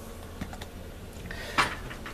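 Keyboard of an Apple MacBook A1181 laptop being set back into place during a cooling-fan repair, giving a few sparse soft plastic taps and clicks with one sharper click near the end, close and quiet.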